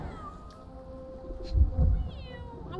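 A cat meows in the Sherlock Holmes The Awakened video game, a few soft mews over a quiet ambient background, with one louder, longer meow near the middle.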